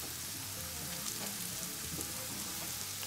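Steady sizzling of food frying in hot oil, a continuous crackling hiss with small pops, close by and without voices.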